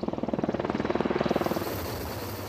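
A rescue helicopter flying overhead, its rotor blades thudding in a fast, steady pulse over a dull engine drone, fairly close and clear with no talking.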